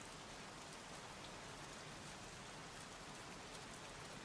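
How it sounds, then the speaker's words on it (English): Steady heavy rain in the video game Heavy Rain pours down in an even, dense hiss with no pauses, fairly soft in level and with no voices. "Goddamn rain. Soaking wet."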